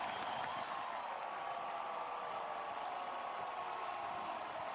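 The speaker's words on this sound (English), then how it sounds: "Liberty Bowl crowd letting them hear it" A crowd in the Liberty Bowl stadium roars for the Memphis Tigers late in the third quarter of a college football game against SMU. The noise is distant, broad and steady, with no single shouts standing out.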